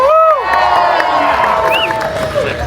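A crowd at a Hollywood Walk of Fame star ceremony cheers and whoops, with loud overlapping shouts and rising yells over a steady roar.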